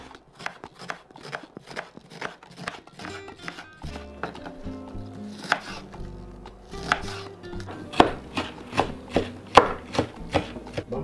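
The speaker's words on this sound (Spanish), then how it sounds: "Pues ahora voy a utilizar la cebolla morada. Vamos a cortarla también bien escritita." Red onion being chopped with a knife on a cutting board for a Mexican fish ceviche, a steady run of crisp close taps that grow sharper and more regular toward the end, with no voices.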